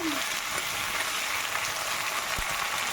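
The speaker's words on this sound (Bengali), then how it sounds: "মাছটা এখন আমি ভেজে নেব" Fish sizzles loudly and steadily in hot oil in a pan, with a dense, continuous frying hiss and a few faint clinks.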